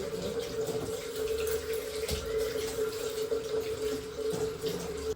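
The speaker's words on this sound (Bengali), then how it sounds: "আমি এখন পাঙাশ মাছগুলোকে আলাদা করে রেখে দিচ্ছি ধুয়ে" Pangas fish being rinsed under a running tap, a steady close stream of water splashing into a sink with no talk over it.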